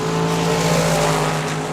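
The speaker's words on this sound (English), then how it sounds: "the dragster with the big blower" At a drag race at Tucson Dragway, a dragster with a big blower launches with a loud, dense, continuous roar close by.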